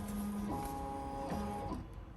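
A Ricoma EM1010 embroidery machine traces a design outline on a beanie, its stepper motors giving steady whining tones that shift pitch as the frame moves, close and quiet, with no speech.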